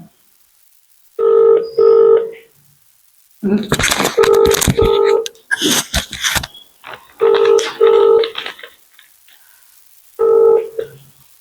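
A phone call to an education official's number rings out unanswered, with several close, loud ringing bursts spaced by pauses and a voice speaking in between.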